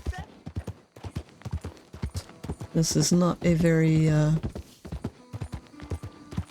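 Rhythmic hoof clip-clops from a trotting horse in the video game Red Dead Redemption 2 run steadily throughout, with someone talking over them and a brief louder vocal stretch in the middle.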